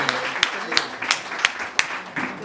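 Audience clapping to welcome a speaker onstage at a Hindi poetry event, scattered uneven claps with sharp accents over a murmuring room, brief and moderately loud.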